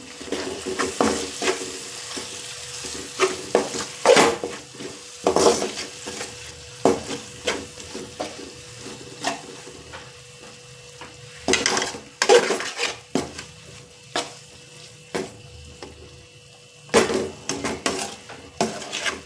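A utensil scrapes and clatters in a pan as tomato fried rice sizzles with Schezwan chutney, bursts of stirring coming in uneven waves over a steady frying hiss for nearly twenty seconds, with no voices.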